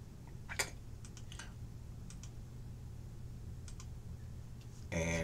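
Computer mouse clicking at a desk, a few faint sparse clicks scattered over several seconds against a steady low hum, ending in a brief louder burst of noise.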